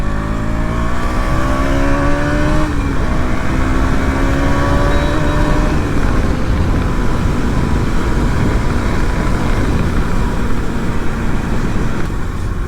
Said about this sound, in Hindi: मैं बाइक की आवाज़ सुनता हूँ ना, तो ऐसा लगता है जैसे कि मैं सुपर बाइक चला रहा हूँ